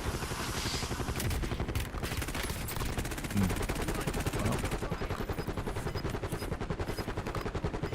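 Sustained automatic gunfire in Call of Duty Warzone, with rapid bursts rattling continuously and loudly the whole way through, dense and close with no pauses.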